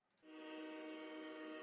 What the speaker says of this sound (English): Let's go ahead and hit that Bills train horn for you now.